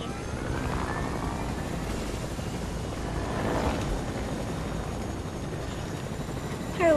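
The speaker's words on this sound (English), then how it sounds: "He left me in the helicopter." A helicopter in the Fortnite video game drones steadily with a loud, continuous rotor whir that swells slightly midway, joined by a brief electronic game sound at the end.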